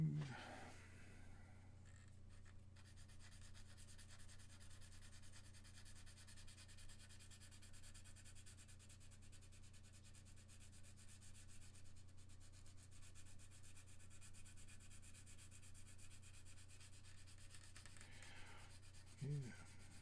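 Someone sands a part of a 1/48 mega size Gundam RX-78 model flat, producing a soft, continuous rubbing scrape over a low steady hum, with a brief louder handling sound near the end.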